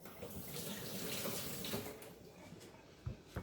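A tap runs in a steady, soft stream at a kitchen sink while a lime is washed under it, ending with a couple of light knocks, with no voices.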